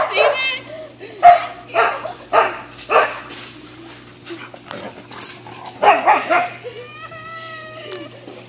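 Huskies by a pool bark and yip in repeated loud bursts close by, ending in a drawn-out whining howl, with voices of people talking mixed in.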